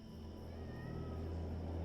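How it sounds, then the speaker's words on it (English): A cat meows faintly in the video game The House of Da Vinci 3, a thin cry over a low, constant rumble of game ambience. "Is there a cat meowing in the game or something?"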